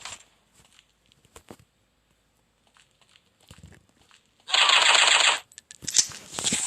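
An AK rifle fires a fast automatic burst of about a second in the offline Counter-Strike game, loud and close, followed by a few single shots, with quiet footsteps and game clicks before it and no talking.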